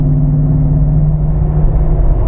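A Jeep Wrangler JKU Rubicon (2017) fitted with an LT 6.2 V8 and eight-speed transmission pulls onto a highway at light throttle, giving a steady, close engine drone with a low tonal hum and constant road rumble throughout.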